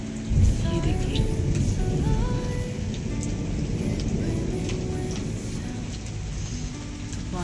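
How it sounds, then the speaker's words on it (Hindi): Rain falls steadily in cold mountain weather, a dense, continuous hiss and patter filling the whole stretch at an even level, with faint background rumble and no voices. "बारिश शुरू हो गई है हमारे यहाँ।"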